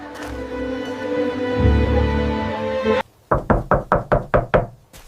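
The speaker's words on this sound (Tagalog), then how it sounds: "Ako'y nakatayo sa pintuan at tumutuktok" Knocking on a door: seven sharp, evenly spaced raps in a quick run, loud and close, following a sustained musical drone that cuts off just before them.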